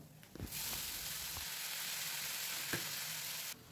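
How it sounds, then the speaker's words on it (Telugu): Onion pieces fry in a pan with a steady, bright sizzle, close up and continuous, with a few soft stirring knocks. "ఉల్లిపాయ ముక్కలు ఇలా బాగా వేగాలండి."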